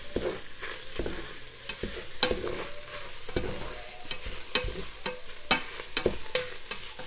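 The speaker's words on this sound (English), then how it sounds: "mix everything together" A potato gratin mixture seasoned with Maggi is stirred in a sizzling pan, with steady scraping and stirring strokes over continuous frying crackle and no talk.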